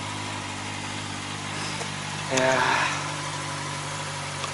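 A Honda CB650R motorcycle engine idles steadily at a campsite on a cold morning, a low even rumble throughout, with a short spoken word in the middle.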